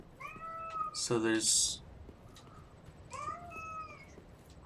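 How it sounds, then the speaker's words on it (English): Several house cats meow loudly ahead of feeding time, a couple of rising calls near the start, a longer strained yowl in the middle and more meows near the end, with a person briefly speaking over them. "it's time for my cats to eat, so they're gonna be noisy for a little bit"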